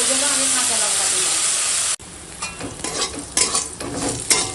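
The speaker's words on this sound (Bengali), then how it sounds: "এখন তেল দিয়ে দিলাম, কাঁচা লঙ্কা ফোড়নে, আর দিয়ে দেবো এবারে নুন হলুদ মাখানো করলা দিয়ে ভেজে নেবো" Salted, turmeric-coated bitter gourd hits hot oil with green chillies, a loud sizzling hiss that drops abruptly after two seconds into softer frying crackle and stirring scrapes.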